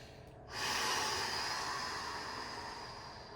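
Someone doing a yoga exercise breathes out in one long, soft exhale through the nose and mouth, close and quiet, following a brief sharp intake.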